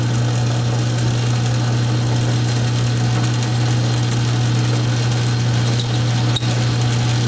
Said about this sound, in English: I'm just going to slow this down a little bit, this feed rate here. Sped up the lathe slightly, and I'm going to go.